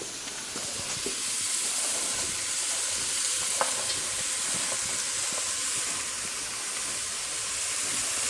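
Chopped carrots and onions frying in a pan, heard as a loud, steady, hissing sizzle that runs unbroken throughout, with a few faint clicks and no talking.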